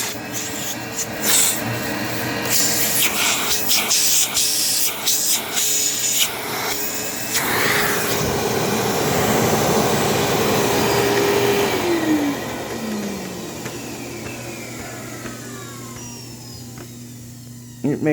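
A Eureka WorldVac 6876 canister vacuum cleaner runs loud and close with a steady motor whine and airflow rush. Near the end its pitch falls as the motor winds down.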